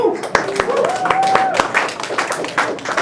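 An audience at a GeoDC meetup claps briefly for a speaker from the Brookings Institution, a few scattered sharp claps mixed with voices and a short tonal sound.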